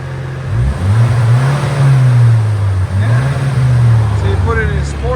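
A 2024 BMW X1 M35i with its 2.0L turbo four and exhaust in sport mode revs up loud and close, rising and falling in two long sweeps, with a person speaking over it.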